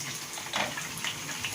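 Apple cider vinegar is poured into a hot pan of thyme-scented chicken being sautéed, a brief faint liquid gush and sizzle over a steady hiss.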